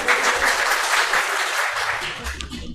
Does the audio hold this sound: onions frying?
no